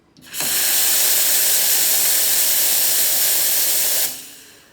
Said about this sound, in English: We'll do a little hot water and steam also.